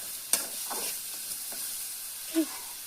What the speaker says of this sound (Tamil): நல்லா வேகமாக வதக்கணும்